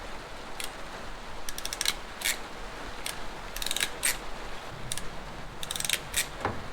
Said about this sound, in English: I accidentally cut one of my wires. So I'm just splicing it back together